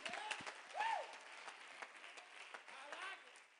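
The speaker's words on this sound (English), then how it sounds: "why don't you clap your hands so your neighbor will know you're not a liar" A church congregation claps along with a preacher, a dense patter of hands under a voice that keeps speaking over it, moderately loud and lasting the whole moment.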